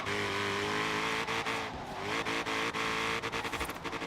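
An RTR Mustang in Forza Horizon 3 screams up through second gear, a loud rising engine whine with brief dips and tire squeal, then rapid rev cuts near the end, alone without talk.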